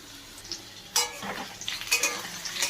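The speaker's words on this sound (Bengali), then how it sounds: "পেঁয়াজও ভাজা হচ্ছে, আলুও ভাজা হচ্ছে" Onions and potatoes fry in a pan for dhoka dalna, a quiet sizzle broken by a few sharp scrapes and clinks of a spatula stirring against the metal.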